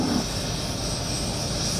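HAL Light Combat Helicopter flying at the Aero India show in Bengaluru, a loud continuous turbine whine over a broad roar, steady for the whole stretch with no talk.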